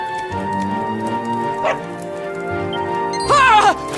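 A dog barks in the video game Dragon Quest XI, two short yelping bursts rising out of steady game music, the second louder and more drawn out.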